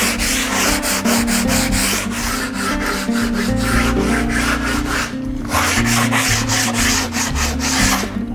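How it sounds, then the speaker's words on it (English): Sandpaper rubbed over the wooden top of a homemade bike desk, built for use with a stationary trainer, in quick, continuous back-and-forth strokes that sound close and loud, with short pauses between passes. "just want to give it a quick sanding"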